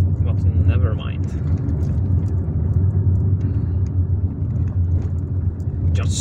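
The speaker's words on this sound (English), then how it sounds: "especially if you have a small Asian car like the one I'm driving here" A small Asian car drives slowly along a rough, bumpy road in Algiers, its steady low engine and road rumble running continuously throughout, with a person talking over it.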